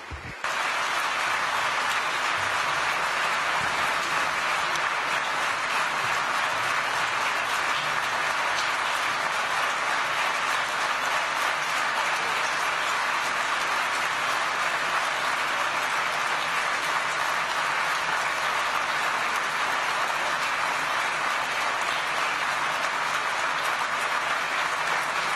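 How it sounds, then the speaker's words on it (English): A large audience applauds steadily after a speech at the Davos annual meeting opening plenary, a dense, continuous wash of clapping that carries on without a break from start to finish. "Thank you for your applause"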